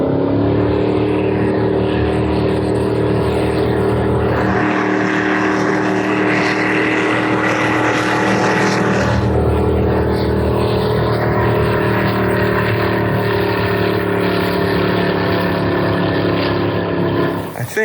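A twin-turbo LS-powered jet boat roars loudly and continuously on the water, its engine note climbing as it accelerates with a brief dip in pitch midway, with no talk over it.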